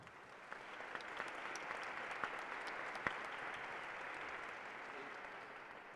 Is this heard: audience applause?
yes